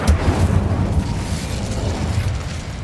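An Incendio fire spell goes off in the video game Hogwarts Legacy, a loud burst at the start followed by a steady low rumbling roar that fades gradually over a few seconds.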